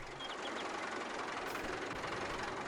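A tractor engine in the Farming Simulator game gives a steady, low, rumbling drone at moderate level with no clear changes in pitch or rhythm.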